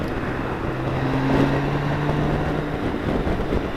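BMW K1600 GTLE motorcycle being ridden, its engine holding a steady low drone with a brief rising tone midway, mixed with constant wind rush over the microphone.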